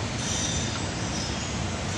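Kao Ming KMR 700 DS radial drill running, a dense, steady broadband roar with a faint high whine, heard close and alone throughout.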